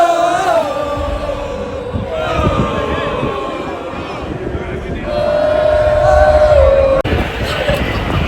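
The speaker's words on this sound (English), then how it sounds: "They're clapping for Saban, which I like." A large college football game day crowd at an outdoor stadium event in Dublin, Ireland, a broad roar of cheering, clapping and shouting that swells and holds, with voices and crowd babble throughout.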